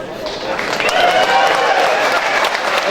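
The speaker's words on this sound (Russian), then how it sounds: "Ваши аплодисменты." An audience applauds at a Kyrgyzstan versus Tajikistan combat sports bout, a broad wash of clapping with crowd noise and voices mixed in beneath it.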